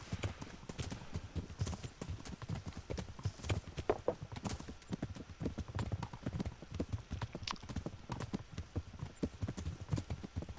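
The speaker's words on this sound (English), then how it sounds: "Kind of wish they just made your horse keep pace with them, so you could kind of just hear it" In the video game Kingdom Come: Deliverance, horse hooves clip-clop in a steady, quick walking rhythm, soft and close, with no other sounds over them.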